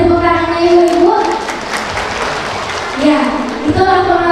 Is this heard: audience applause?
yes